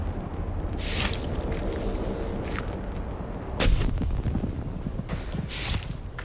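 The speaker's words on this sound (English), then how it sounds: "Tossing grenade" A grenade detonates in a shooter video game with a sharp, loud blast partway through, surrounded by rattling gunfire and busy combat noise.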